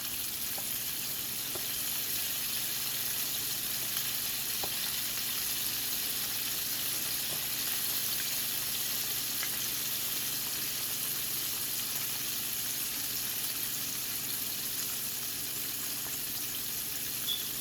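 Chicken wings deep frying in oil in a large skillet, a steady, soft crackle and sizzle that goes on unbroken at an even level, with no talk over it.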